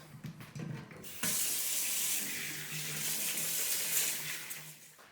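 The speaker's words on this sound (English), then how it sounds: "first of all I'll start by washing my hands." Hands are washed under a running kitchen tap: a faint rustle first, then a steady, close rush of water that flows without pause to the end.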